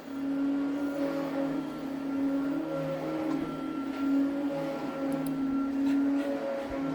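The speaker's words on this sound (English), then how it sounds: "She was calming down until that vacuum cleaner turned on." A vacuum cleaner runs indoors with a constant tonal whine and hum that holds steady throughout, fairly close, with no voices over it.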